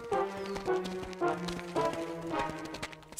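Cartoon horse hooves clip-clopping in a brisk, regular rhythm, fairly close and moderately loud, with a faint music bed underneath.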